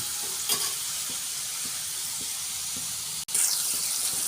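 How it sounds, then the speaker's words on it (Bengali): Sliced mushrooms fry in a pan, giving off a steady sizzle. Soft stirring taps break in now and then, followed by a sharp clatter and a brighter burst of sizzling near the end. "মাশরুমটা ভাজার সময় কিছুটা জল বেরোবে, ওই জলটা যতক্ষণ না মরছে ততক্ষণ আমি মাশরুমটা ভেজে নেব"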